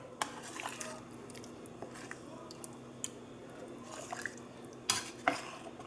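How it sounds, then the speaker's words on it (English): A spoon stirs a pot of gumbo with soft, wet squelches and scattered clinks against the pot, fairly quiet, with two sharper metallic knocks near the end. "Time to give it another good stir."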